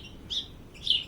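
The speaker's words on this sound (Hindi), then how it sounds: "इस चिड़िया का नाम गौरैया है। यह पेड़ पर बैठी है।" A house sparrow perched in a tree gives two short, thin chirps about half a second apart, faint and fairly distant over a quiet background.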